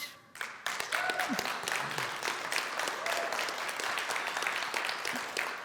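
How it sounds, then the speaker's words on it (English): An audience at a TubeFest talk applauds Louise Brogan, a steady wash of clapping that starts abruptly after a brief pause and carries on evenly at a moderate distance. "Can we have another round of applause for Louise Brogan, please?"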